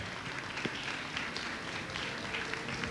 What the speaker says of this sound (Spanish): Un aplauso para recibir a Mónica.